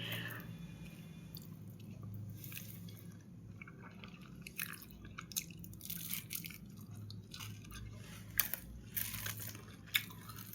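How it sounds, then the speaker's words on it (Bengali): Close chewing and biting of a meal of rice with fried puti fish and mashed taro, with soft wet, squishy mouth sounds and occasional crisp crunches over a steady low background hum. "আবার এখন খাচ্ছি।"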